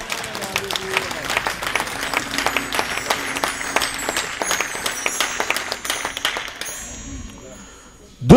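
A church congregation applauds in a dense burst of clapping that dies away toward the end before a voice breaks in.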